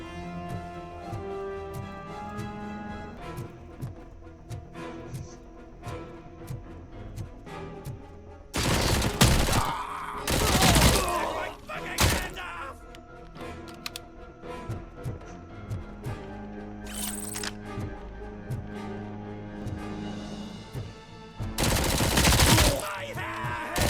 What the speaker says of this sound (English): Yeah, the heavy machine gun.